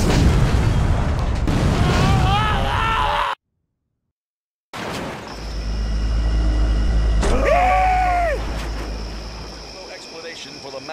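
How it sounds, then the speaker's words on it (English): A deep, sustained explosion rumble rolls on for several seconds in the Stubbs the Zombie game as a police station is blown up, preceded by game noise and a short silence, with tonal game sounds layered over it. "Massive explosion that destroyed the Punch Bowl police station"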